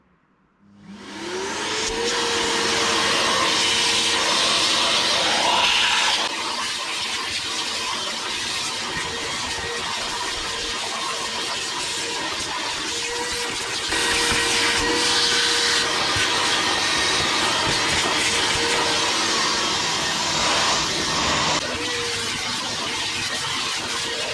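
An Evolution shop vac powers up and runs steadily for over twenty seconds, a loud, close, continuous whine and rush of airflow as it sucks wood sawdust from a garage workshop floor around a miter saw, with small shifts in pitch as debris passes through.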